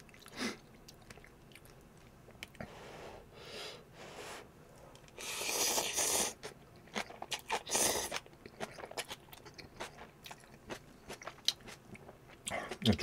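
Someone eats chili shrimp cup noodles up close, with soft repeated bites, slurps and chewing crunches in uneven bursts, several louder rustling stretches and brief quiet gaps between mouthfuls.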